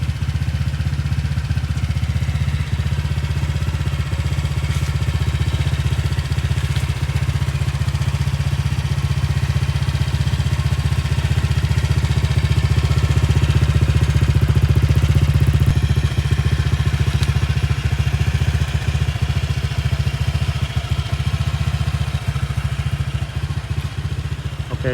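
Honda Vario 125 scooter engine running fresh Castrol Power 1 Ultimate oil, a steady loud low hum with light throttle blips held throughout, close to the machine, no speech.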